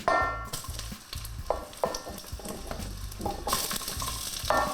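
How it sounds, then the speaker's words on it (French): Steady sizzling of zucchini frying in hot olive oil, with repeated stirring scrapes and clatter in a pan, close and fairly loud. "Puis faire revenir les courgettes."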